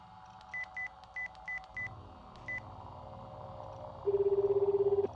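A phone dialing a number in the Chaos;Head Noah game, several quick electronic keypad tones in an irregular run, then a steady ringback tone pulsing, over a low rumbling ambient background, with no talking.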